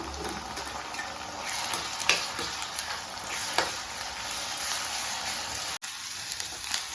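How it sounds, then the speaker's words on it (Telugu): Ginger-garlic and coconut paste fry in a pan with onions, a continuous close hiss and sizzle broken by a few stirring scrapes and clinks, with no talking. "అల్లము కొబ్బరి పచ్చి వాసన పోయేంత వరకు మంచిగా ఫ్రై చేయాలి"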